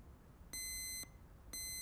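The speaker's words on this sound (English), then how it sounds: "It's the bell alarm. Someone just pressed it by mistake." A building bell alarm, set off by an accidental press of its button, sounds two sharp electronic beeps about a second apart, each a steady high tone lasting half a second, loud over a quiet room.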